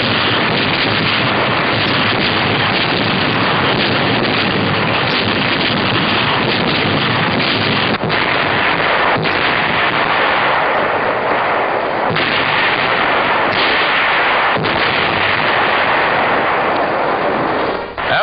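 Artillery and naval bombardment on Saipan pounds away continuously, with dense, loud rumbling blasts and crackling gunfire, heavy wind-like noise and a few sharper reports standing out.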